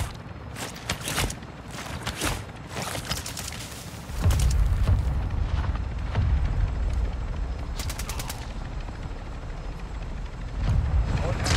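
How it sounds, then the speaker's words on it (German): Helicopter arriving at the landing zone in the video game Call of Duty DMZ on Ashika Island, a low rotor rumble building beneath rapid bursts of gunfire, with players talking over it. "Der Heli kommt."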